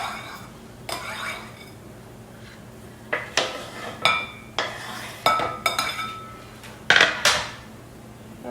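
Steak pieces for animal-style steak tots are dropped into sauce in a bowl, producing a scattered series of sharp clinks, taps and scrapes from utensils against the dish, close and clear over a quiet room.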